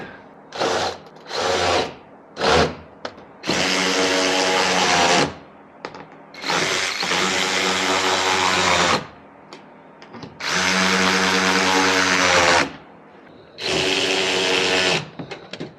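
A cordless power tool tightens the brackets of a Duraflap tailgate flap on a pickup truck, several short bursts followed by four long whirring runs, loud and close, separated by pauses, with no talking.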